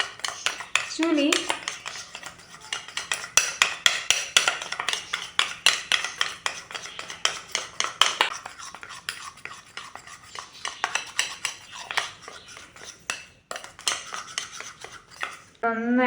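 A spoon scraping and clinking steadily against a bowl while a sugar face pack is mixed, with rapid repeated scrapes and taps running throughout, close and fairly loud, a faint whisper of a voice at the start.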